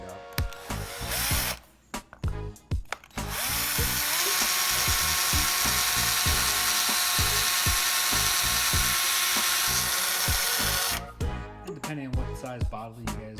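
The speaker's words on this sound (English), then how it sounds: "we're going to be drilling 2 pre-drilled holes on the bottom" A power drill boring two pre-drilled holes in the bottom of a wooden board for a tumbler box, a steady loud whine lasting several seconds between shorter bursts and handling knocks at start and end.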